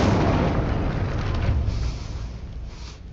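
A fire spell cast in the Hogwarts Legacy video game, a loud booming whoosh that erupts at once and rumbles on, fading slowly over about three seconds with no voices.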